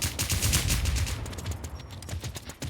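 Rapid gunshots crackle in the zombie survival shooter WarZ, a close, dense burst of shots that thins out toward the end, fairly loud with no talking over it.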